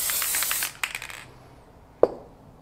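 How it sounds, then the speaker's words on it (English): Spray adhesive hisses from an aerosol can onto a part during a Dana 20 transfer case rebuild for an early Ford Bronco, a steady close spray followed by a few short bursts and a single sharp click. "so I'm going to do this one with some spray adhesive"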